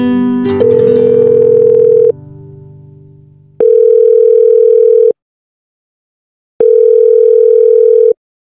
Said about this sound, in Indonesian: Coba deh gue telepon si Om dulu.